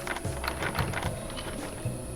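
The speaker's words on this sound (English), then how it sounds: "Then he shoves a stick made from the umbrella and pinned it to the keyhole." A lock being picked with a pin in a horror video game gives off a steady run of small metallic clicks and ratcheting ticks, close and fairly quiet, with no voices.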